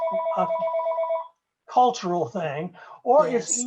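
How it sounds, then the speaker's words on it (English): A phone rings with a repeating electronic tone for just over a second during a forum discussion, then falls silent as people carry on talking nearby. "And pardon my phone, it'll stop."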